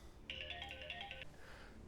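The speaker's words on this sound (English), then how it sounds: "so that's why the phone rang" A phone ringtone plays once, a clear electronic tone lasting about a second, faint and alone against a quiet background.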